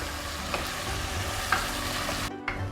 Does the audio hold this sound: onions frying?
yes